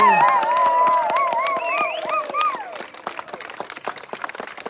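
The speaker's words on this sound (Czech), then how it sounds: "Výborně, zatleskejte si." Audience applause at a community gathering in Zubří, with scattered, uneven hand claps that begin under a sustained melodic tone and carry on more sparsely once it fades.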